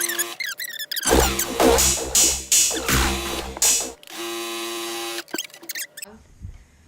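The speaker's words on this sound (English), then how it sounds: "And then I'm just going to sew on this whole piece of fabric." A Baby Lock Coronet sewing machine stitching through quilt fabric, heard close as several bursts of rapid mechanical clattering and whirring separated by short pauses, with small clicks and squeaks between runs.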